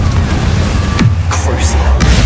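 A Confringo fire spell goes off in Hogwarts Legacy, a burst of magical blast noise with swooshing sweeps and a sharp crack near the two-second mark, over dense, loud game ambience.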